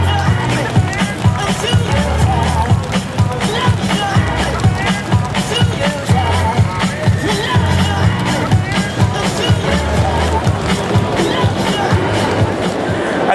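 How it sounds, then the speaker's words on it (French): Audience applause for a candidate at a 1 May 2014 Socialist Party candidate presentation, a steady loud crowd clapping with babble and voices mixed in. "Je vous remercie d'applaudir Dimitri Legas"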